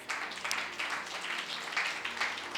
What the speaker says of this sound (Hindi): ताली बजाओ पवित्र आत्मा का।